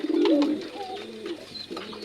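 Pigeons cooing up close, a deep throaty burble at the start followed by softer repeated coos against a quiet room background.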